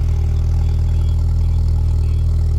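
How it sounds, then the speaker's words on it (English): A tuned, turbocharged 2-litre four-cylinder petrol engine in a Golf R Mk6 runs close by with a loud, steady idle, its deep rumble holding even for the whole stretch. "it sounds, even though it's a 4-cylinder, it sounds menacing. It's a turbocharged engine."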